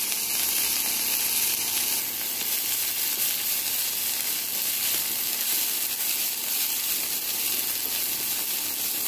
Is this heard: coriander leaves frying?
yes